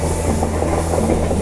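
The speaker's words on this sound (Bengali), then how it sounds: "ডিব্রুগড় থেকে কন্যাকুমারী বিবেক এক্সপ্রেস এখন আমাদের ওভারটেক দিতে আসছে এই প্ল্যাটফর্মে" A long-distance Indian express train, the Vivek Express from Dibrugarh to Kanyakumari, rumbles past a platform with a loud, steady low roar and rolling rail noise.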